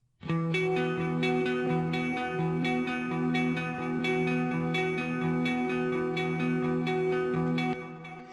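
Clean electric guitars pick an arpeggiated triplet figure, each note plucked in an even, repeating cycle that rings together in a bright, sustained pattern, loud and unaccompanied by voices.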